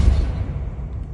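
A Depulso spell cast in the video game Hogwarts Legacy lands as a short, deep thumping whoosh with a low rumble that fades within about a second.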